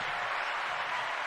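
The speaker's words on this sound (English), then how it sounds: "Big round of applause for you all." Brief, faint applause rings out as a short hiss-like wash of clapping on a podcast, very short and even.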